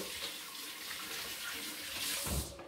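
Tap water runs into a kitchen sink while flour is rinsed off hands, a steady, faint splashing stream with a brief swell of louder gushing near the end.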